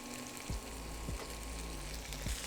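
Salmon pieces are tossed with green onion and sesame seeds in a hot pan over lowered heat, a soft continuous sizzle broken by three quick scraping tosses, faint and even with no one speaking.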